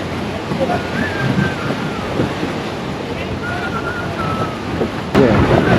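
Surf washes continuously onto a shore at a seaside spot in India, with steady wind rumble across the microphone and a stronger gust or wave burst near the end.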